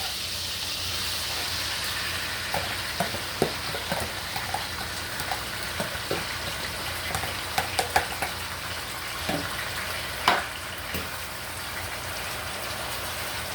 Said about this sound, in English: so the garlic is going on good in the oil